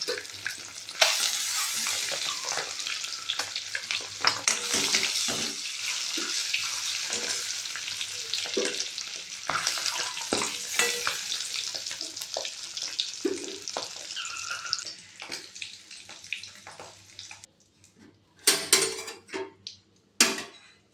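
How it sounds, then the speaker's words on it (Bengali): Duck eggs fry in hot oil with a dense, bright sizzle and frequent spatula scrapes against the pan, fading toward the end into a few scattered clinks and quieter crackles. "ডিমগুলো লাল লাল করে ভাজা হয়ে গেলে আবার ওই থালেই রেখে দেবো।"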